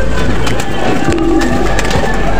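Pigeons coo softly at close range while being fed, low throaty calls over a loud, constant background rumble, with scattered rustling and bird movement around them.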